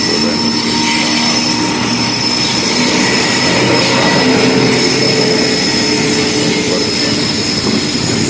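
A fast train roars past close by at Nellore without stopping, a loud, continuous rushing noise with high metallic squealing tones running throughout.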